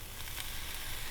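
Shrimp skewers sizzling on a hot griddle, a steady broad hiss that stays quiet and even throughout.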